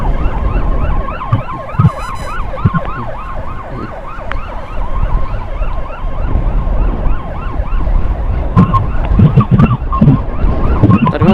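Ambulance sirens wail continuously in a fast rising-and-falling pattern from two ambulances escorted by motorbikes in traffic, loud and close, with motor and road noise underneath and occasional horn-like bursts.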